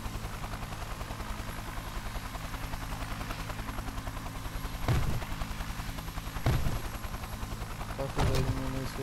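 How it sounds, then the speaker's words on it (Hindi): A landing army helicopter drones steadily in the background with a continuous rotor thrum, interrupted by three sharp bangs or thuds; a voice may be faintly present. "अपना हेलीकॉप्टर है उतर गया है"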